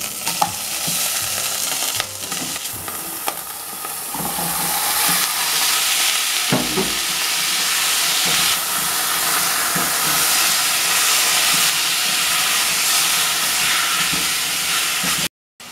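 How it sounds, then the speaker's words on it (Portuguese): Loud, continuous sizzling and crackling of linguiça sausage frying in a pan, with occasional stirring scrapes and a brief cut at the end. "E vamos colocar a linguiça para fritar."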